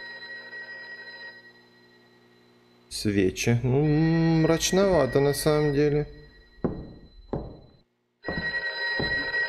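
An old-style telephone bell rings in the Russian horror video game DRUNKOFF, a loud harmonic trill repeating in bursts over a low ambient drone, with someone talking briefly between rings.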